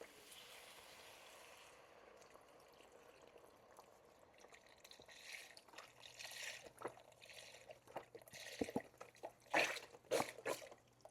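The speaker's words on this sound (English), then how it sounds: "I'm going to use 4 cups of this ramen broth, and then I'll add 2 cups of vegetable broth" Chicken ramen broth poured into a pot for homemade ramen, heard as a quiet steady liquid trickle that grows into louder splashing and dribbling toward the end, with no talking.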